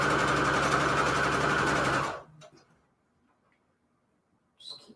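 A sewing machine stitches fabric crumb scraps in a steady, loud whirring run for about two seconds, then stops abruptly, leaving near silence with a faint brief noise at the end.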